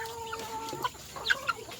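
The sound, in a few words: Texas breed chicken clucking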